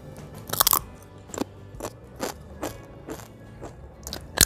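Crisp crunching bites of fried breadfruit chips, several sharp crackly crunches followed by steadier chewing, close and clear with no talking.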